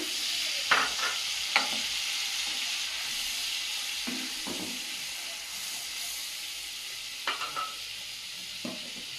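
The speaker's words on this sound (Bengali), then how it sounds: "তেলের মধ্যে সামান্য একটু জল দিয়ে দেব" A little water goes into hot oil in a home kitchen while river fish cooks. It sets off a loud, steady hiss and sizzle with a few clinks of a spoon scattered through.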